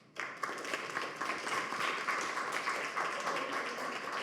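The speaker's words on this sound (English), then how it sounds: "Give a round of an applause to André." Audience at a speaking event for digital nomads bursts into applause, a steady wash of clapping from many hands that starts abruptly and holds fairly evenly, heard at a moderate distance.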